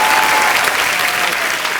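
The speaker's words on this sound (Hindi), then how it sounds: "जोरदार तालियां एक बार।" Vigorous clapping from a live studio audience on a Hindi comedy talk show, a short, dense and steady burst of applause heard close and loud.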